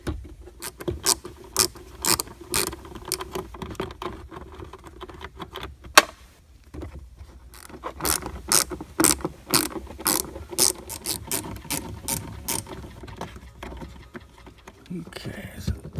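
A ratchet with a T20 socket clicks rapidly while removing bolts on a Volkswagen GTI near the air recirculation valve, in repeated bursts of close ticking separated by short pauses.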